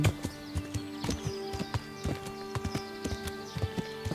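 Horse hooves clip-clop in a quick, irregular rhythm in Kingdom Come: Deliverance, sharp near footfalls over a soft background with a faint whinny.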